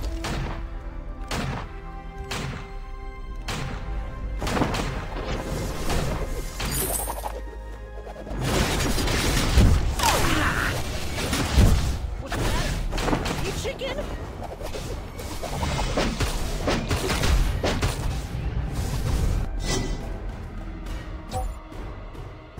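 Ringo firing on enemy heroes in the mobile MOBA Vainglory during a 3v3 match, a dense run of crashing, thudding impacts and whooshes over game music and effects, with voices talking throughout.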